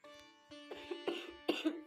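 A woman's cough at close range: a few short, raspy bursts in quick succession over a faint steady hum, with no talking.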